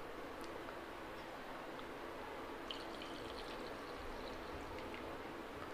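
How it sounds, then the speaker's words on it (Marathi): Water pours into a pan of gravy for triple rice, making a faint, steady rush and trickle that runs unbroken throughout with no voices. "आपण ह्याच्यामध्ये पाणी घालून घेऊया"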